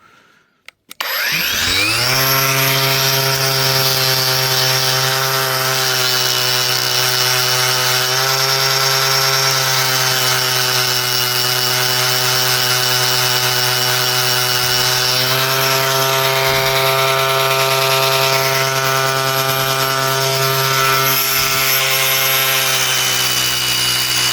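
A continuous, steady abrasive whine of sandpaper sanding a meteorite runs unbroken for a long stretch, loud and close.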